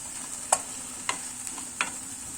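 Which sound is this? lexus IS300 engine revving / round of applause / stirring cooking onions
stirring cooking onions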